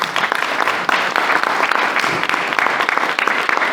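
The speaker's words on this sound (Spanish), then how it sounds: "Un aplauso, por favor." Audience at an academic lecture on Guanajuato history, clapping in a loud, dense round of applause close to the microphone, steady for several seconds with no speech over it.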